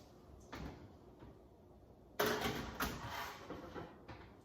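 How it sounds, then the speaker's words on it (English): A kitchen oven door swings shut with a single firm thud, set among a few quieter handling knocks and clicks in a home kitchen. "close the oven door, and turn the oven off."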